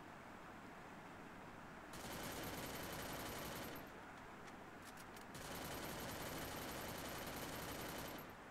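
Bursts of automatic gunfire from a Free Fire battle royale match, two sustained stretches of rapid shots at moderate loudness separated by a quieter gap, with no talking.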